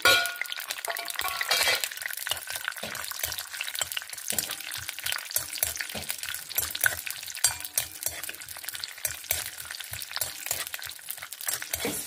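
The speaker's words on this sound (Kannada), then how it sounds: "1-2 ಟೇಬಲ್ ಚಮಚ ತುಪ್ಪ ಹಾಕೊಂಬ. ದ್ರಾಕ್ಷಿ ಗೋಡಂಬಿ ಹಾಕೊಳ್ತಾ ಇದ್ದೆ." Raisins and cashews fry in a tablespoon or two of ghee for wheat flour laddu, giving a steady close sizzle broken by frequent stirring scrapes and light clinks of a spoon against the pan.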